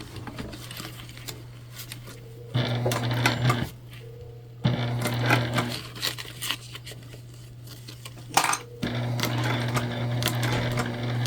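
Sewing machine slowly top stitching through thick recycled bag material using a thick throat plate, steady mechanical whirring in bursts with short pauses between runs, close and fairly loud.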